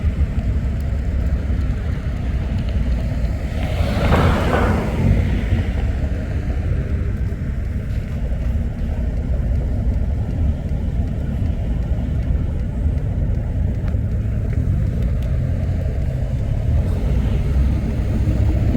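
A train rounds a curve beside an Amtrak station, heard nearby from a car in traffic as a steady low rumble with a brief louder swell partway through.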